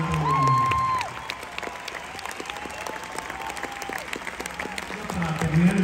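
Concert audience applauding at a show at the 50th Festival Cervantino in Guanajuato, a dense crowd roar swelling at the start and end, with a voice speaking through the middle over the clapping.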